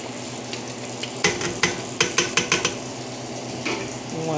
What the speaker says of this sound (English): Then you want to stir that up.